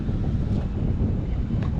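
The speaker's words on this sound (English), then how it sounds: "The past 2 days we've been up here has been pretty windy." Strong wind buffets the microphone outdoors at a lake on a northern fishing trip, making a steady, low rumbling roar with no other clear sounds.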